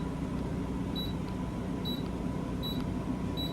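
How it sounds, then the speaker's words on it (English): Four short, crisp electronic beeps from button presses on the climate control panel of a Jayco Greyhawk RV, evenly spaced over a steady low fan hum. "Just make sure when you push the buttons, you hear the beep"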